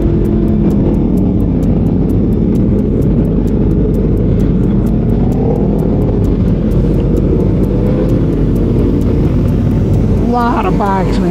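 Group of motorcycles riding off together, a loud dense engine rumble that builds and revs with a throttle whine near the end, voices talking over it.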